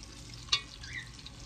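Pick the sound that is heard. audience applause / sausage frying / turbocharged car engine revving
sausage frying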